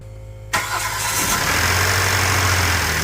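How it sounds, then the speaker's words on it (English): A Kia Sorento 3.3L GDI V6 cranks and catches after brief quiet, the start landing as a sudden loud burst that settles into a steady, fairly loud idle, close by, after an intake valve cleaning. "So now it's time to start the car."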